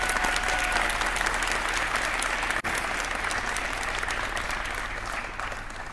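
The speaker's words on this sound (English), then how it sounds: "Round of applause for that." An audience applauds at an event where Nevada's governor presents an education proposal: dense, sustained clapping from a large crowd that fills the whole stretch, briefly cut off once, then tapers slightly.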